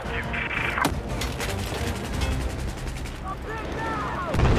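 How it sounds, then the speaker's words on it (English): Gunfire in the video game Battlefield 6 forms a dense, continuous roar of shots with sharp cracks, a loud blast near the one-second mark and another strong burst at the very end. "Where did those shots go?"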